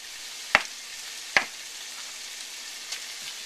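Mushrooms go into a pan of frying rabbit pieces: a steady soft sizzle broken by two sharp, close clacks, then a fainter knock.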